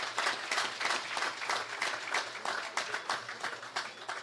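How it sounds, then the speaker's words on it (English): Steady applause from a crowd, dense clapping sustained throughout at moderate volume. "I think you all deserve a round of applause."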